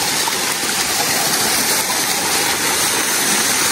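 Water streams continuously into a garden pond at Mayfield Garden, a close, even rushing and gurgling flow with no voices.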